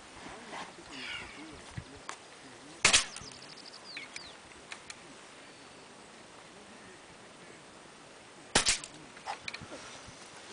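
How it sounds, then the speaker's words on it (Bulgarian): Two sharp, loud gunshots ring out at a shooting competition at the Baltic Cup 2012, several seconds apart, over a quiet outdoor background with faint voices. "Ето го и бате тук стреля."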